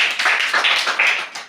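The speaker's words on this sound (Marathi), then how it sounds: "छान, टाळ्या वाजवा।" Schoolchildren in a classroom clap their hands together, a quick, bright, uneven patter of many small palms that swells and dips in short bursts throughout, with no talking.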